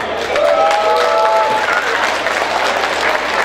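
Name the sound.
applause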